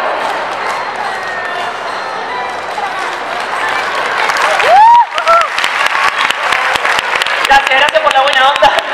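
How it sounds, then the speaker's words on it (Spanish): A circus show audience bursts into loud applause and cheering after a whistle-like rising sound, clapping growing dense and close over murmuring voices in the venue. "Si les gusta, fuerte el aplauso."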